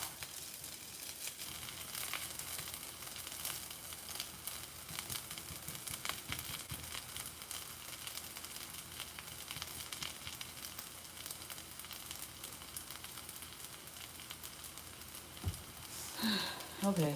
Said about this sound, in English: Okay, so now it's frying